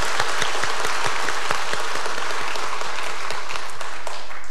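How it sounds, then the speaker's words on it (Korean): A church congregation claps together in welcome during a festival worship service, a loud, dense, continuous round of applause with no talk over it. "우리 서로 환영하고 축복하는 박수로 우리 함께 박수하겠습니다"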